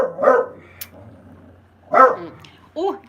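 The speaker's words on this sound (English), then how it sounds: "For goodness sake, it's a wee dog." A wee dog named Pip barks in short loud bursts, three sharp yaps spaced apart at close range, with a quiet household background.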